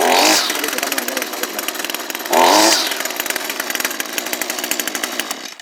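An Echo SRM225 string trimmer's small two-stroke engine runs loudly nearby, buzzing at a high idle and revving sharply twice before settling back to a rattling hum.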